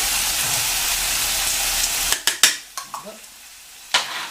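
Onions and tomato paste fry in a pot for boeuf bourguignon, a steady close sizzle that breaks into a few sharp scraping stirs near the end, with a brief spoken word.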